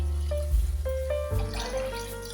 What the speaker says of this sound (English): Now as I pour in the coconut milk,